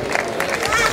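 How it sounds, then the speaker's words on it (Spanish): Brief burst of crowd applause at a Spanish orienteering championship awards ceremony in Guadix, a dense wash of clapping mixed with crowd murmur and voices. "Fuerte aplauso."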